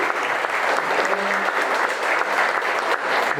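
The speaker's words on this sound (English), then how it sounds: "Let's give Catherine a nice round of applause." A seated audience at a 2019 county fair senior recognition ceremony claps steadily for a full round of applause, a dense, even patter of many hands throughout with no break.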